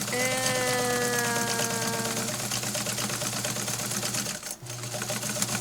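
Sewing machine zigzag stitching through fabric, a steady close mechanical whir with rapid rhythmic needle ticking that runs loud and continuous, briefly dipping near the end before resuming.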